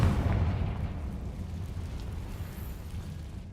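A Confringo fire spell explosion in Hogwarts Legacy, a loud rumbling blast that fades into a long crackling decay over a few seconds.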